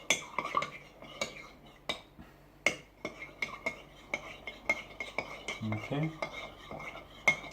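A utensil stirs macaroni and milk heating in a pot, with repeated sharp scrapes and clinks against the metal in an uneven rhythm, close up. A short spoken word is heard once.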